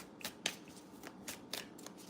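Playing cards riffled and shuffled by hand in a quiet room, several quick crisp bursts of shuffling in an irregular rhythm, close and fairly soft.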